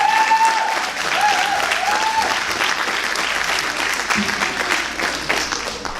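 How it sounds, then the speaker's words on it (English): An audience at a dance performance debut gives sustained, even applause, a dense wash of clapping with a faint voice at the start and a few louder claps near the end. "So if we can have another round of applause for that amazing performance."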